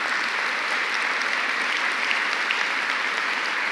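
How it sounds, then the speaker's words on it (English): Dense, even applause from a large audience at a school district State of the District event fills the whole stretch at steady volume, with no voices standing out. "Let's give them a huge round of applause."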